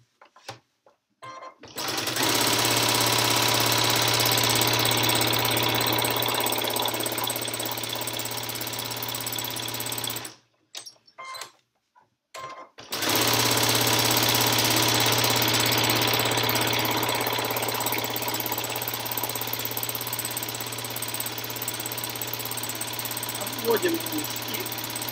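A domestic sewing machine stitches a textile patchwork postcard, running in long steady whirring bursts with a short stop-and-start break midway, loud and close with no talking.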